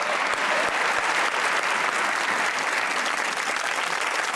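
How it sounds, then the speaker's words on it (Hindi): Sustained applause from a studio audience at a Pakistani TV comedy show, dense and even throughout, with no voices over it. "सफदर भाई के लिए ताली होनी चाहिए"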